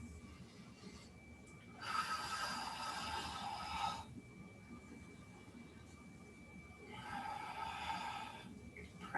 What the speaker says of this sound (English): let's take 3 breaths here